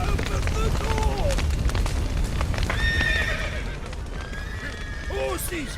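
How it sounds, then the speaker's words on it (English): Horses neigh and whinny in The Witcher 3, several loud rising-and-falling calls with hoof clip-clop, mixed with shouting voices and background game noise. "Horses! Gotta let him out!"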